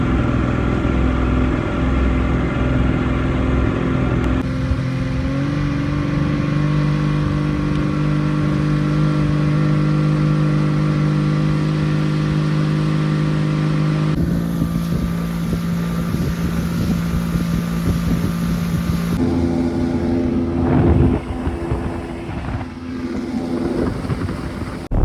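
A boat engine idles steadily while warming up on a lake, a continuous low drone that holds a near, even level with light wind noise, then turns rougher and more uneven toward the end.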